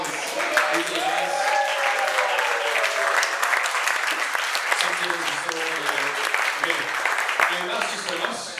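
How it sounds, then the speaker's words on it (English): Wedding guests at an evening reception give a steady, full round of applause during the speeches, while voices talk and call out over the clapping. "we give you all a round of applause"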